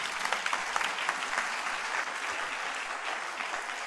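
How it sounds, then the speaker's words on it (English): A church congregation claps steadily together, a dense, even wash of many hands heard from a moderate distance without any voices rising above it. "Clap for yourself."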